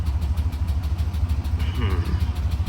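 A 454 GMC Sierra truck engine runs at idle with a knock, skipping and vibration, giving a close, steady low rhythmic throb throughout while a voice speaks briefly over it.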